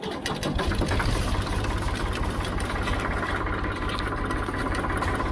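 A Ford 3000 tractor engine runs steadily at idle, giving a rapid, even mechanical chatter with a knocking pulse and vibration, fairly close and loud, with no talking.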